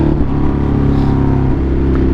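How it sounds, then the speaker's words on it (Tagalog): Exhaust note of a Ducati Multistrada motorcycle, a loud, close, throaty engine rumble with a brief rise and fall in revs over a couple of seconds. "ito yung maririnig yung exhaust guys pagka iba pa sa personal to pero ito yung most likely yung exhaust na or tunog ng exhaust na makukuha nyo"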